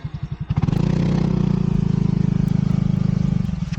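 A motorcycle engine starts and settles into a steady, loud idle close by, with a throbbing, even pulse and a few sharp clicks over it.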